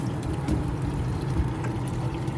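Water flows through a tankless water heater being flushed, a steady close rushing and trickling sound with no talk.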